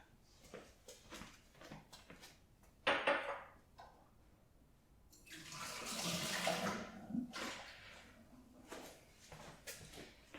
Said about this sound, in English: I need to actually pour this out.